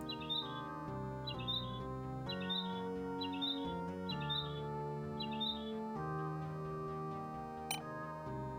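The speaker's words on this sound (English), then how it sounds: "We found the birds." Bird chirps from a video game, Heroes of the Seven Islands, repeat in short bright bursts over steady game music, with no talk.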